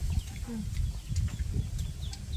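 Chickens cluck and chirp intermittently at a moderate distance in an outdoor rural setting, with low background rumble and brief high-pitched bird calls scattered throughout.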